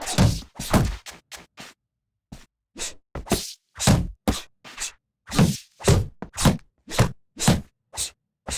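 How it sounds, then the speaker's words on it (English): Punches landing in the boxing video game Fight Night Champion, a string of sharp close thwacks and thuds in quick bursts and combos with short silent gaps between them. "A crushing two-punch combo by Marvin Hagler."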